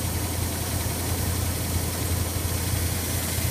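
A car engine fitted with an added Holley 4-barrel carburetor idles steadily, with a low, even rumble and a faint rhythmic pulse, close by and alone with no voices.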